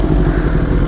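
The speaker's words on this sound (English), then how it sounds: "I'm gonna let Robert take the BMW S1000RR out" A BMW S1000RR motorcycle engine rumbles steadily at close range, a dense, loud, low drone that holds for the whole moment.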